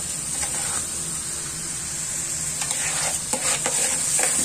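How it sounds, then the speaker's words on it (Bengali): Pulao rice fries in a pan with a steady gentle sizzle, with soft intermittent scraping and stirring strokes of a spatula, close and without talk. "পোলাও চালটা আমি ভাজবো।"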